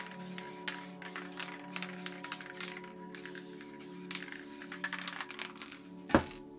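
Can of Montana white spray paint hissing in short and longer bursts around a stencil, fairly close, with a sharp sputtering burst from the cap near the end.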